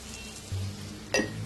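Spices such as coriander powder and turmeric dry-roasting in a pan with very little oil for matki sambar, a faint soft sizzle with a brief stir and a light clink of a utensil near the end.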